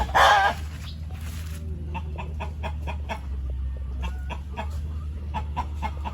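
Rhode Island Red chickens at a farm coop cluck in short repeated notes, one brief loud squawk at the start and then a steady series of clucks over a low farmyard hum.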